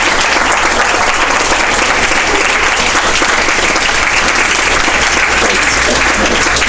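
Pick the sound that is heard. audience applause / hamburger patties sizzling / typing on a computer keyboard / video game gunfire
audience applause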